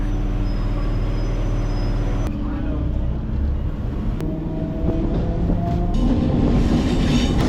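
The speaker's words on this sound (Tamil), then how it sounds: "அடுத்ததாக இப்போ train நிற்கிறதாங்க light house railway station" A Chennai MRTS suburban electric train rumbles along its rails between Velachery and Chennai Egmore, with steady low-frequency roar and occasional clacks, loud and close throughout.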